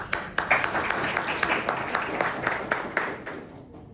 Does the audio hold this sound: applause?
yes